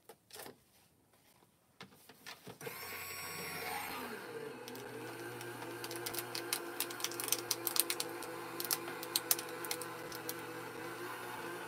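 A paper foiling machine runs too tight, starting with a sudden mechanical whir that settles into a strained hum, overlaid by rapid irregular clicks and rattles that grow busier over several seconds.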